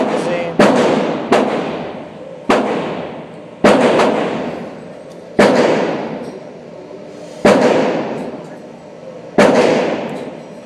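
Seven sharp, loud gunshots from a CZ70 pistol firing full metal jacket rounds, each crack followed by a ringing echo, spaced at uneven intervals.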